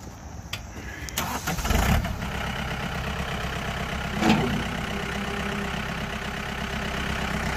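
A 2010 John Deere 4320 tractor engine cranks and fires up, then settles into a steady close idle with a brief surge partway through.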